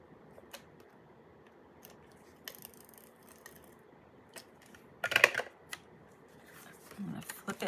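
Paper being trimmed for cardmaking, a few quiet snips and paper rustles spread through a calm room, with one louder, crisper cutting burst near the end, and no speech.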